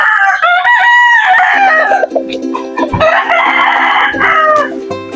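Native chickens clucking with a rooster crowing loudly and close by, the calls overlapping in long rising and falling bursts.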